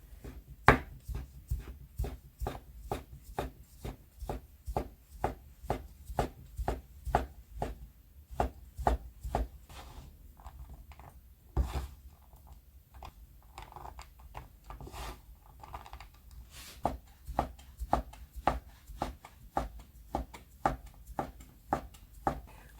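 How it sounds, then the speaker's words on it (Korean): A kitchen knife chops folded, floured noodle dough for kalguksu on a cutting board, giving a long run of quick, steady knocks with a few brief pauses, close but fairly soft. "마른 가루를 솔솔 뿌려서 잘 접고"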